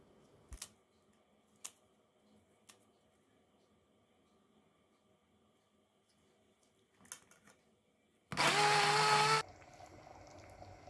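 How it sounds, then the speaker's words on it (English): A kitchen mixer purees homemade tomato sauce in one loud, dense whir lasting about a second near the end, after quiet stretches with a few faint clicks and knocks. "afterwards I turn it into a puree with the help of a mixer"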